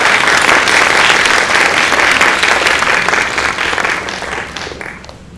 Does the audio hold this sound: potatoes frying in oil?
no